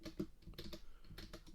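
Code for an Arduino Uno from an Elegoo starter kit is typed on a computer keyboard, a quick, uneven run of close, soft key clicks with no talking.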